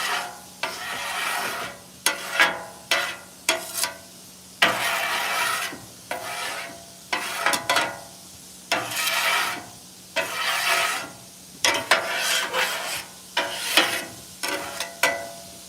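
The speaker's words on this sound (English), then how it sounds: "So that was a pretty easy clean. I just scraped it." A metal scraper rasps repeatedly across a hot cooking griddle, loud, close strokes in a steady rhythm of about a dozen passes, with faint sizzling and an outdoor hum beneath.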